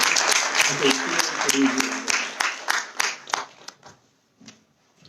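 Brief round of applause from a webinar audience during a session on a tax dispute resolution scheme, fading out after a few seconds, with a voice speaking over it.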